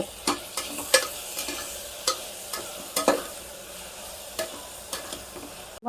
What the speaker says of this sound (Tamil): கொஞ்சோண்டு மஞ்சத்தூள் ஆட் பண்ணிக்கோங்க. அது நல்லா வதக்குங்க.